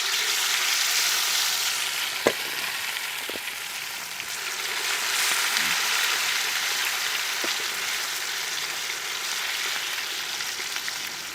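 Masala-coated chicken pieces dropped into hot coconut oil in a Kerala kitchen, sizzling and crackling steadily, with a few sharp pops and clinks over the continuous frying hiss.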